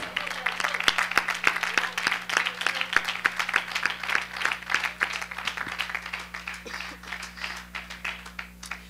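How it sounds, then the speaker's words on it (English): A church congregation claps during worship, loose uneven clapping that picks up into a fuller patter and then thins out, with a low steady hum running underneath. "Can I get a clap for the presence of the Lord?"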